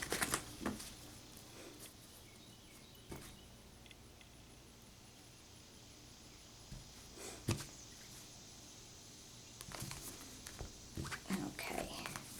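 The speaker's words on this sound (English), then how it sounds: "I'm just going to get a couple more shuffles in and cut the cards" Soft papery riffling and light card flicks come in short bursts, close and quiet, with a few sharper taps against a faint background hiss.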